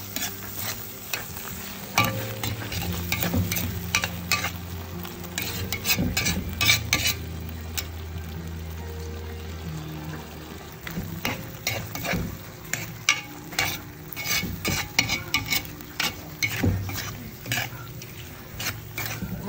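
Buttered shrimp stirred with sweet and spicy sauce in a pan, a long run of close scraping and clinking utensil strokes over a continuous sizzle.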